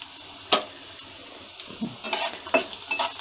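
Onion fries in a pan with a low continuous sizzle, broken by several sharp scraping bursts as a spoon stirs it, close and alone.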